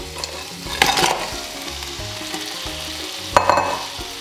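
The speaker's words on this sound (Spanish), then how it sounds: "Y esta la voy a sofreír un poquito, pero lo vamos a dejar ahí sofriéndose un ratito" Crab with garlic sautéing in a pan for Honduran coconut crab soup: a close, steady sizzle, broken twice by loud bursts of stirring and scraping.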